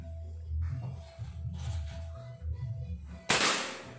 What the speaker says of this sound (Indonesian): kita cek beberapa kali tembakan